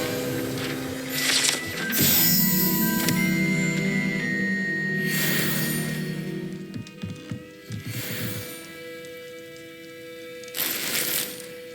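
The Revelio spell being cast in Hogwarts Legacy: bright, shimmering magical bursts rise sharply at intervals over a steady humming backdrop, with softer mechanical ticks in between.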